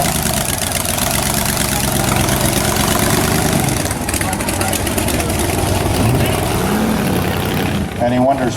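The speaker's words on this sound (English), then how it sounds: "66 El Camino, 540 cubic inches of blown big block, 700 trans" A blown 540 cubic inch big block V8 in a 1966 El Camino with a 700 transmission idles loudly and steadily at a car show, a deep continuous rumble with crowd chatter and voices mixed in throughout.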